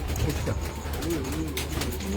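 A pigeon coos in a loft, soft low rolling calls repeating close by, with someone talking over them throughout.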